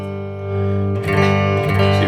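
A 1980 DOD 670 Flanger pedal with a fault, a sustained guitar tone that turns harsh and noisy halfway through, loud and close.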